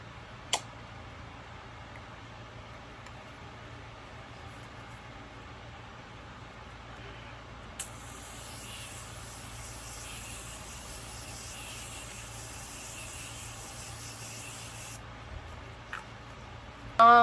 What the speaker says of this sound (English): I'm gonna try the setting spray right now.